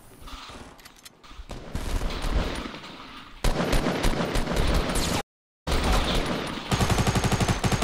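Loud gunfire in Fortnite, including sniper rifle shots, comes in dense bursts and rapid volleys, broken by one brief total dropout before a final run of quick, evenly spaced shots.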